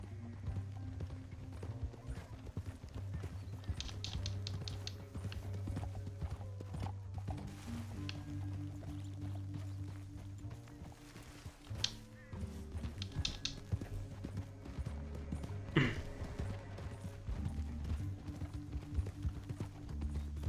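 Horse hooves clip-clop at a steady trot in Red Dead Redemption 2, under a low droning music bed, with a brief whinny-like sound partway through.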